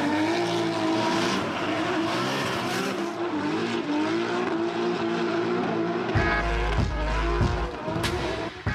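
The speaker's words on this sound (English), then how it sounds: "Drifting on the street, that's what it's all about." A drift car's engine roars at high revs on a street track with continuous tire squeal and skidding, loud and close, the revs rising and falling.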